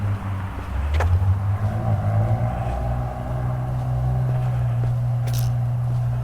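A loud car with no muffler rumbles past, a steady, deep, throaty engine drone that holds close and strong throughout.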